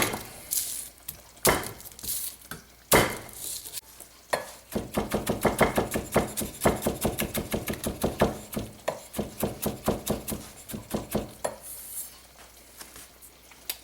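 Knife chopping garlic on a cutting board for a warm bacon dressing, a rapid run of close, sharp taps in a steady rhythm, with a few louder knocks at the start.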